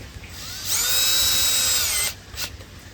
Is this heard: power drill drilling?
yes